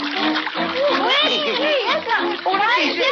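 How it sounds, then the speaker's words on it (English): Water splashing for a radio-drama effect of jumping in, loud and continuous over about three seconds, mixed with lively cartoonish voices and child-like chatter throughout. "Wait, in the water we go."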